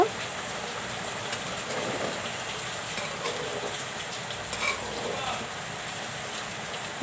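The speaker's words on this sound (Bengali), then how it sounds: "বাইরে অনেক বৃষ্টি হচ্ছে" Heavy rain falls outdoors as a continuous broad hiss, steady and moderately loud, with a few faint croaking or rumbling sounds mixed into the wash of rainfall.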